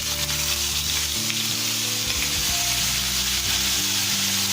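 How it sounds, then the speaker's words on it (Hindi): Ground onion paste frying in oil on a medium-low flame, a loud continuous sizzle with stirring movements throughout, close up. "और इसे हम मीडियम लो फ्लेम पे भून लेंगे"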